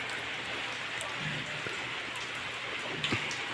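Steady rain falls in a continuous, even hiss with scattered drops, a soft wash of sound with no talking over it.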